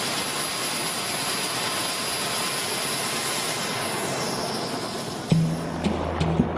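Aircraft flying over the Nubian desert north of Khartoum, a steady jet engine roar held evenly throughout, ending in a few brief louder thumps and knocks near the end.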